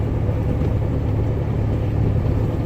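A 1993 Ford Escape idling rough on five cylinders with a number 3 misfire gives a steady, loud low rumble with no clear rev changes.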